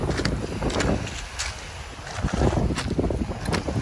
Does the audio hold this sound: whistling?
no